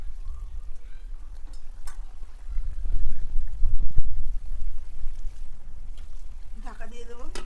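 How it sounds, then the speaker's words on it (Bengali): Fried tilapia pieces slide into a pot of boiling curry, raising a short burst of bubbling, sizzling splashes over a steady low simmer, with a brief clatter near the end. "ঝোলটা আমার ফুটে গেছে, এখন আমি মাছগুলো দিয়ে দেব,"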